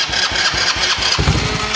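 A cheap used ATV engine cranking with the choke on, loud and close, chugging through rhythmic starter pulses before catching and firing up into a rough run.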